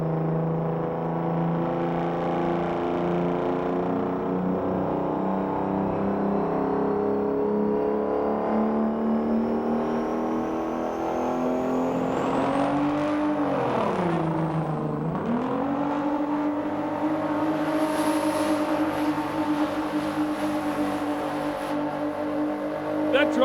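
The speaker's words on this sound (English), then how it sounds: "The Kenworth with the V12 Detroit and automatic inside of it sounded like he might have shifted gears there midstream." A Kenworth hot rod semi truck with an automatic and a V12 Detroit engine pulls at a truck pulling event, its loud, sustained engine roar holding steady, then dipping and rising again as if shifting, with crowd and announcer noise around.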